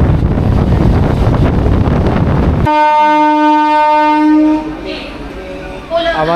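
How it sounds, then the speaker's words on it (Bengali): The 12277 Howrah-Puri Jan Shatabdi Express rushes past nearby with a loud roaring rumble, then its horn blares in one long sustained tone that fades to quieter noise. "12277 হাওড়া পুরী জনশতাব্দী এক্সপ্রেসের সাথে।"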